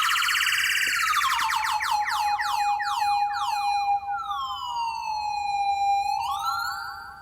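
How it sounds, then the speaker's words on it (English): A loud electronic siren effect from a Pioneer DDJ-SZ DJ controller wails and sweeps up and down in pitch, its tone bending and shifting through the whole stretch before fading slightly at the end. "There's a siren too."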